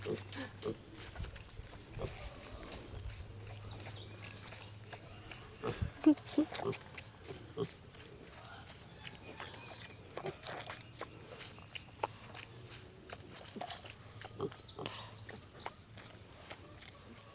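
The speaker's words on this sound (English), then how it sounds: "Here comes the pig. Come to see what we're doing." A pig named Nellie grunting and snuffling close by at a farm, short irregular grunts and chewing sounds mixed with footsteps and rustling, while people talk intermittently.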